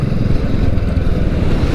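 A 2023 BSA 650 Gold Star single-cylinder motorcycle engine roars steadily at high revs, loud and close, with a dense, throbbing exhaust note throughout the short burst.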